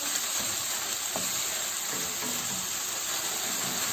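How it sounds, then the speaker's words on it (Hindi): Chicken pieces fry in a kadai over medium heat for a chicken handi, making a soft, steady sizzle with faint stirring sounds and no voices. "मीडियम हीट पर मैं इसको फ्राई कर रही हूँ"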